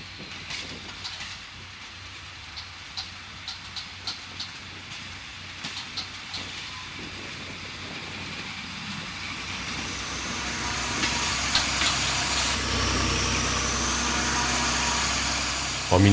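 A Caravelle X 4300 railcar in Nancy station, heard with a steady engine hum, scattered clicks and clacks, and a louder rising roar near the end as it pulls closer.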